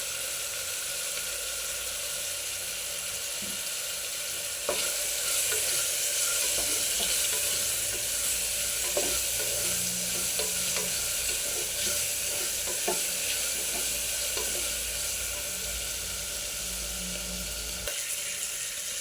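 Asafoetida drops into hot oil in a pan while cooking vegetable khichdi, giving a steady, close sizzle with scattered crackles and light stirring clicks throughout, no voices.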